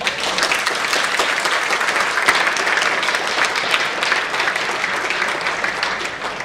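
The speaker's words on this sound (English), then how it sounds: "So give a warm round of applause for Ilona right now." Audience at a tech talk on React and Redux applauding, dense sustained clapping from a roomful of people with no speech over it.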